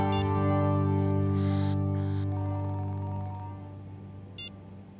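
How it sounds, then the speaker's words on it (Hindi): A mobile phone ringtone playing loudly as a sustained, bright electronic melody with layered tones that shifts pattern midway and then fades slightly, with no talking over it. "अरे काया को छोड़ देखना तेरी होने वाली भाभी का फोन।"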